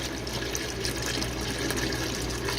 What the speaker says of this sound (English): I'm just gonna drain it into here, and then I'm gonna rinse the krill.